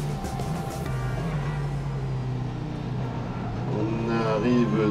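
Lamera Cup race cars brake into the school hairpin at the Nogaro circuit, a close engine drone whose pitch falls and then climbs again, with a commentator talking over it.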